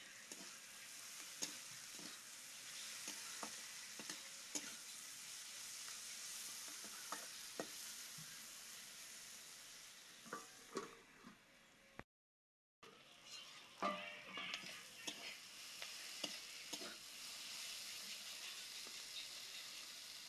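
Bitter gourd frying and being stirred in a pan in a Bengali home kitchen, with a steady sizzle and repeated sharp scrapes of a spatula through the clip and a brief silent break midway.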